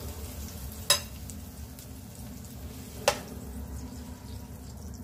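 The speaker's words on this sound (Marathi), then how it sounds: "राई, मेथी दाणे, हिरवी मिरची आणि कढीपत्ता आपण घातलेले आहे, ते आपण ह्याच्यावर ओतून घेऊ" Hot oil tempered with mustard seeds, fenugreek seeds, green chili and curry leaves sizzles and crackles steadily after being poured onto white sesame chutney, close up, with two sharp spatters at about one and three seconds.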